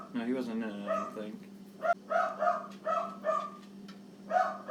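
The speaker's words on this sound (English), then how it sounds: "Yeah, sorry about the dog barking." A dog barks repeatedly in the background, several short, evenly spaced barks and yips, while a person talks over them during a podcast recording.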